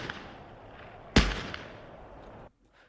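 A single gunshot fired at a sign in Call of Duty Black Ops 6 or Warzone, a sharp loud crack over a steady game ambience that rings out briefly before the sound cuts to near silence.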